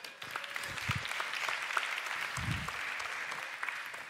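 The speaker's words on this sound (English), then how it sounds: "Give yourselves a round of applause." A church congregation gives a short round of applause. The clapping is soft and scattered, with a few louder claps, and lasts about four seconds.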